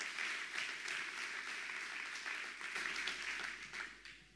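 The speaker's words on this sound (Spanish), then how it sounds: "Dale un aplauso al que vive" Church congregation applauding together during a sermon, dense steady clapping that holds for several seconds before tapering off at the end.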